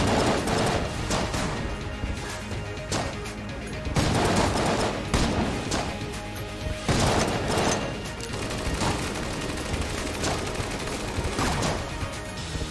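Blunderbuss gunfire in Enter the Gungeon on Nintendo Switch: loud, booming shotgun-like blasts repeat in bursts at irregular intervals over a busy, continuous bed of game sound effects.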